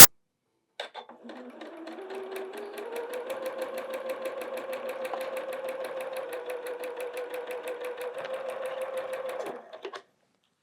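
A sewing machine stitches quilt block pieces in one continuous run of about nine seconds, a fast steady mechanical whir with rapid needle clatter, close and alone.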